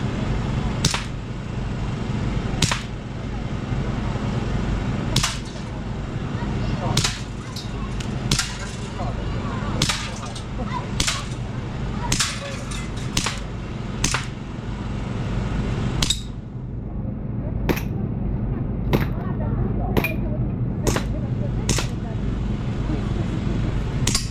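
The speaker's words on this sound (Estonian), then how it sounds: "Laste lasketiir." Shots at a children's shooting gallery during a kids' event in Mustamäe: sharp, isolated cracks roughly every second or two over a constant background hum and murmur, with a brief lull midway.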